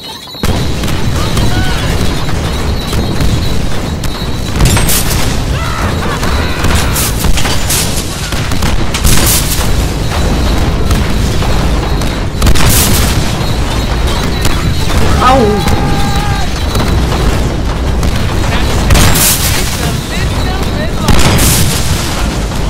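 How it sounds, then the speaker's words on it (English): Grenade blasts in the 2013 Deadpool video game, several loud booming bursts scattered through dense gunfire and battle noise, with talk running over much of it. "Grenades!"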